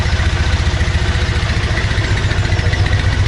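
A Triumph Bonneville motorcycle engine idles close to the microphone, a steady low, even throb with a fine mechanical clatter on top, running on its own with no talking.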